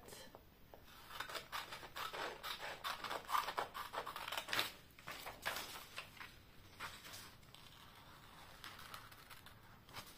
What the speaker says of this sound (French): je découpe mes inscriptions